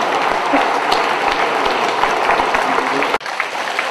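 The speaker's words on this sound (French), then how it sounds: "Vous pouvez applaudir l'orchestre." Dense, sustained applause from a concert audience for an orchestra performing Viennese waltzes, loud and continuous throughout, with a brief dip near the end before the clapping carries on.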